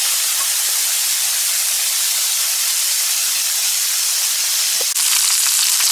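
Steak pieces frying in a pan make a loud, steady hiss and sizzle, with a brief clatter near the end as more meat goes in.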